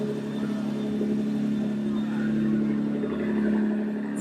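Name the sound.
Ford ETS 35R race car driving by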